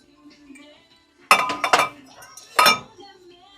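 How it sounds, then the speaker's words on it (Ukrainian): Ribbed glass cups clink together in a few sharp, bright knocks, a pair of quick taps followed by another single clink, close and alone against a quiet background. "Чашки скляні ребристі по 84."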